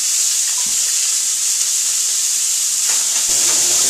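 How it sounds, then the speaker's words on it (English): Beef tenderloin browning in a hot pan for a wine braise, a loud steady sizzle and hiss throughout, with a few faint clinks near the end. "So follow me as I'm browning my meat."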